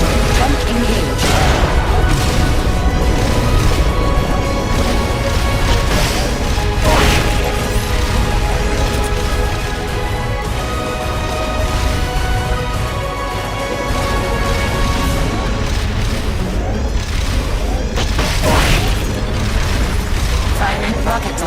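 A rocket launcher fires in Metal Gear Solid: Peace Walker, its loud booms and blasts recurring within a constant, thick layer of combat sound and score.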